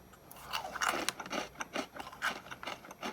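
Crunchy bites and chewing on a chunk of dry vanilla, a series of close, quiet crunches and mouth sounds in an irregular rhythm.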